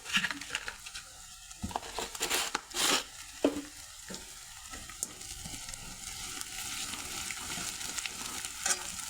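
Spices crackle and sizzle in hot oil, tempering a ground paste for kadhi, with a few sharp stirring scrapes early on, then a steadier hiss.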